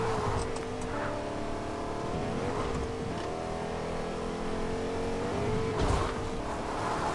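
Close, loud engine of a truck driving in Fortnite, droning continuously with pitch swells as it revs and gears change, plus a couple of heavy bumps near the end.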